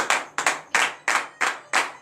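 A church congregation at a morning prayer service in Benin claps in unison, about seven crisp, evenly spaced rhythmic claps, close and loud.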